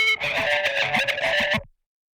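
A short pedal-based sample loop with delay and distortion, a dense, buzzy tonal phrase with rhythmic pulses that plays for under two seconds, then cuts off abruptly into silence.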